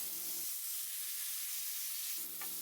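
Small chicken pieces fry in a pan with curry leaf paste for curry leaf pepper chicken, giving a steady, even sizzle and hiss that stays close and constant throughout, with no voices.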